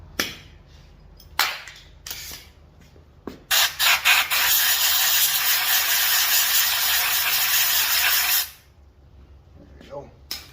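Compressed air from an air chuck blasting into the carburetor of a Stihl BG 55 leaf blower: a few short hissing puffs, then a loud, steady rushing blast lasting several seconds, with brief taps and clicks around it.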